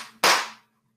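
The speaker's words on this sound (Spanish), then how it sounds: "¿Y si aplaudimos dos veces?" Two sharp claps from an audience at a children's storytelling event: one softer lead-in, then one loud, crisp crack that decays fast into silence.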